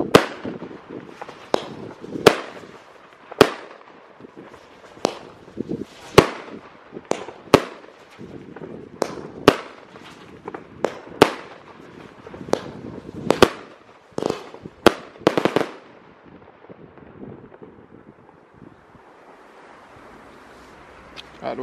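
A consumer fireworks multishot battery of 36 shots fires a long irregular string of sharp bangs outdoors, heard from a moderate distance over wind, then fades to quiet ambience.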